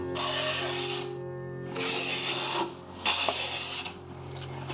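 A freshly sharpened and set hand plane shaves a fine curl off a wooden board, two long close rasping strokes separated by a brief pause, with a softer tail of scraping at the end.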